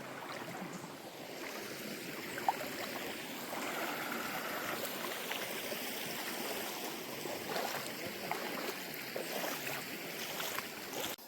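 A crystal-clear mountain stream in the Poonkavanam forest on the Sabarimala Peddapadam trek near Erumeli rushes steadily, a constant broad hiss of flowing water close by with no voices.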